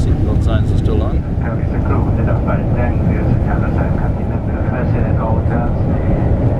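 Cabin noise inside a Thai Airways Boeing 777 economy class climbing out of Kuala Lumpur, a loud steady engine roar and rush of air with a voice speaking over it.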